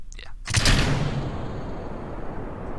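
Rocket engine igniting in the Kerbal Space Program game: a sudden loud roaring burst that swells within a second, then settles into a sustained, broadband rumble that holds steady to the end.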